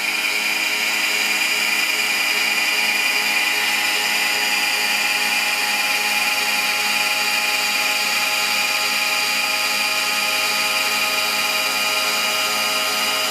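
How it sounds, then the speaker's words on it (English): K4 autopilot rudder servo motor running at full tilt, a steady high electric whine that holds throughout, loud and close with no talk. "look how the rudder servo is at full tilt trying to stop the movement"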